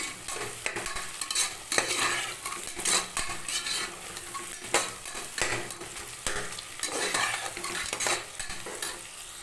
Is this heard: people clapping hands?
no